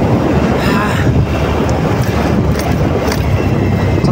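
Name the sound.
wind blowing while riding on a straight road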